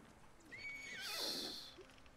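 A horse in Ghost of Tsushima gives one loud, close whinny that rises and falls over about a second, with faint hoof clip-clop and soft ambient sound around it.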